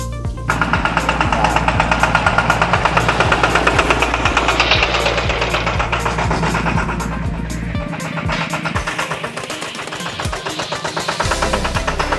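A New Tech tractor engine, a small walk-behind farm tractor fitted with a front dozer blade, runs with a loud, steady knocking diesel chug, easing off briefly near the end before picking up again.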